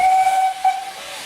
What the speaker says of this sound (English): this here behind me is a perfect replica of one of Mr. Gooch's engines